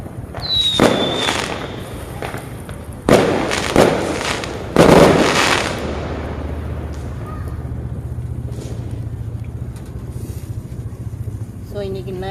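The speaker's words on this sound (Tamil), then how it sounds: "இன்னைக்கு நைட் வந்து பட்டாசு எல்லாமே வெடிப்பாங்க" A whistling rocket is followed by several loud firework and firecracker bangs at a Chinese New Year celebration, then a fading rumble with wind noise and faint voices.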